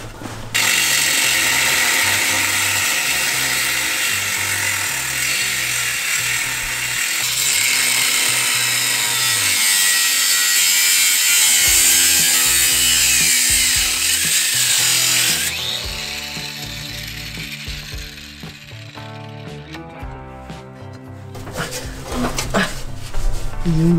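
A tool cuts through a car exhaust pipe with a loud, sustained grinding and rasping that runs for about fifteen seconds, then gives way to rougher, intermittent clattering and scraping.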